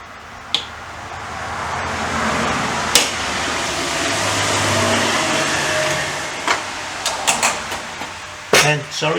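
Road traffic rumbles steadily in the background with a broad hiss rising and falling as vehicles pass, punctuated by sharp clicks and knocks from a workshop nearby; a voice is heard in places.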